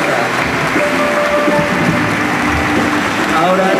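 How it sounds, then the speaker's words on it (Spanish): A church congregation applauds during a religious gathering, and the clapping forms a dense, loud wash like rain. It stays steady the whole time, with faint voices blended underneath. "Un aplauso al Señor de la Misericordia."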